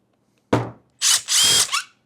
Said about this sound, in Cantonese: 你咧就可以用電動螺絲批喺後面